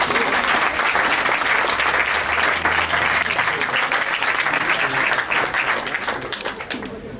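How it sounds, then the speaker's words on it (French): Sustained audience applause at a speech for a Lyon society magazine, loud and dense with many hands clapping throughout, thinning slightly toward the end. "Vous pouvez les applaudir."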